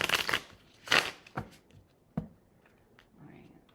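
Several quick papery riffles of tarot cards being shuffled in short bursts, close by, with quieter rustling in between.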